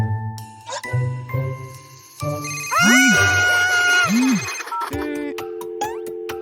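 A telephone rings with bright, bell-like jingling tones, close and loud, mixed with cartoonish sliding electronic sounds and other playful effects in a Halloween children's story.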